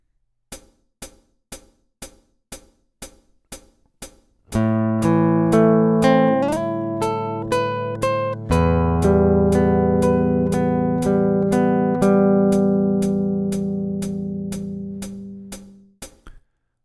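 A guitar plays the last two bars of the first line of a piece. About eight steady, evenly spaced clicks come first, then a few ringing notes that change pitch and sustain for roughly twelve seconds before fading.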